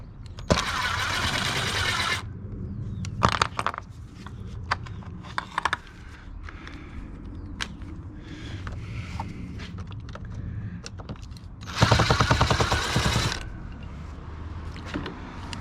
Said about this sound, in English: So we'll just take these screws out.